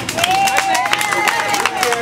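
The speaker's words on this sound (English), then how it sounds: "If you think he doesn't care, clap." Crowd at an outdoor rally in Bughouse Square clapping in response to a show-of-hands question, dense scattered claps over a continuous murmur of voices, moderately loud and close.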